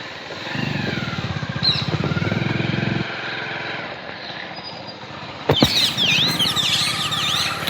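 A motorcycle riding into a village, its engine running steadily close by with a shift in pitch partway through as it moves along, with birdsong and a brief wind buffet near the end.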